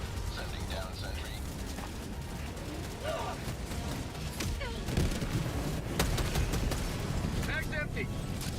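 Sentry and autocannon fire in Helldivers: steady, fairly quiet bursts of distant gunfire and booms roll throughout, with occasional sharper reports and mechanical clanks, under a busy game mix.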